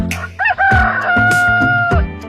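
A rooster crows one long, loud cock-a-doodle-doo, close and clear, held for over a second above steady background music.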